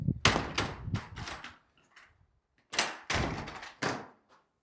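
PVC door at a new motorsport workshop being opened and shut, several thudding knocks and rattling bumps in two bursts separated by a short quiet gap, close by with no talk.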